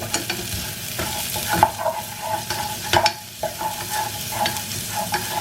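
Curry leaves and onion fry in a pan, with a steady sizzle broken by repeated stirring scrapes and clicks of a spoon, close and moderately loud.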